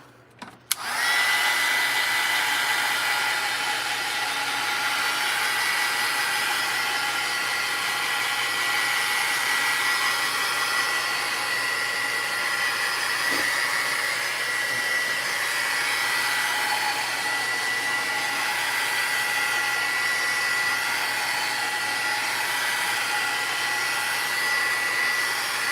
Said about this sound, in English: I'm just going to zap it with the heat gun so we can kind of speed up the drying process